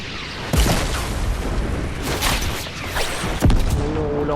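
RPG rocket blasts in a shooter video game: a heavy boom opens, then a rumbling, crackling stretch with further bursts, and a second sharp blast near the end, all loud and close.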